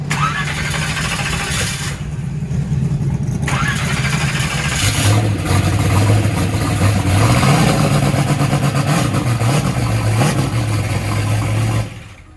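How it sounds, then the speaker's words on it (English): A race car engine at a track cranks and catches, then runs loud and rough with repeated revving swells before cutting off abruptly at the end. "we're gonna try to fire this thing up real fast, see if it cranks up and moves"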